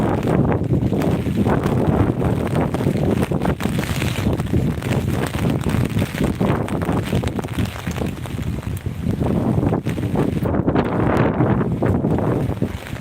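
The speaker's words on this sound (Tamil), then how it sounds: "நல்லா காத்துங்க" Strong cyclone wind batters a rooftop during Cyclone Fengal, a loud continuous roar of gusts buffeting the microphone for the whole stretch, with no voices.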